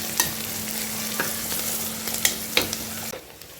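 Onions sautéing in a pan give a loud, continuous frying hiss, with several sharp spatula scrapes and taps as they are stirred. The sizzle cuts off abruptly near the end, and nobody speaks.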